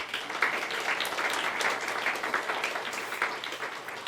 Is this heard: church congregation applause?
yes